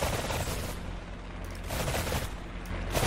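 Rocket launcher fire aimed at a helicopter in a video game: dense, sustained booming gunfire and blasts fill the whole stretch at close, steady loudness, swelling in bursts.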